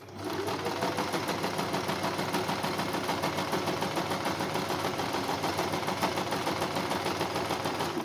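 A sewing machine stitches a fabric face mask in a steady, rapid mechanical rhythm, loud and close, running without pause from start to finish with no talking.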